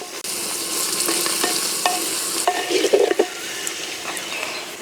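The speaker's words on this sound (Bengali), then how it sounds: "পেঁয়াজ একটু ভেজে নিলাম।" Onions fry in a clay pot with a steady, soft sizzle throughout, broken by a few scraping stirs and light clinks of a utensil against the pot.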